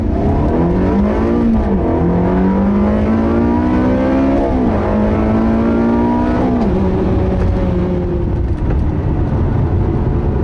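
A Ferrari 360 Modena sports car accelerates with a loud, close engine note that climbs in pitch through the gears, steady and alone with no talking.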